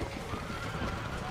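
Horse neighing and hoof clip-clop from the video game Red Dead Redemption 2, faint and muffled, mixed with a player's low talk.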